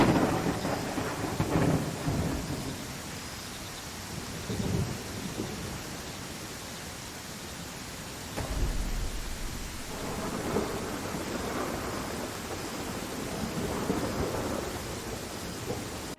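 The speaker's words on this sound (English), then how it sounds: "Thunderstorm. The god of the sky is angry." Thunderstorm in the city-building game Land of the Vikings: steady heavy rain hiss with deep rolling thunder rumbles that swell and fade several times, continuous and fairly loud with no talking.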